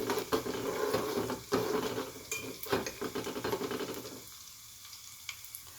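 Garlic and ajwain seeds cook in oil for an ear-pain remedy, stirred on low heat: a soft sizzle under repeated scraping and clinks of a spoon against the pan, then a quieter simmer as the stirring stops.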